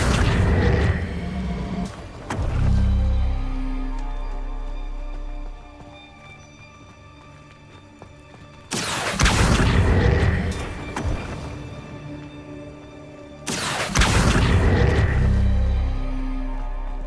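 Spells cast in Hogwarts Legacy, the fire spell Incendio and the pulling spell Accio, give several loud booming whooshes separated by quieter stretches of low rumbling game ambience.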